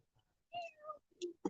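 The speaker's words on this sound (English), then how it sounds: "There's a cat." A cat gives a short pair of meows, the second rising and falling, fairly quiet and close by. It is followed by a brief soft vocal sound.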